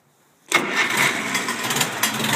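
A 1964 Farmall 140 tractor with a Zenith carburetor and 12-volt system cranks and catches almost at once, settling into a close, steady running rumble.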